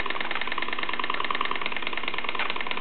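A Cyldon Vulcan 13/3 model steam engine runs steadily, a continuous even mechanical whirr with rapid rhythmic ticking and no voices.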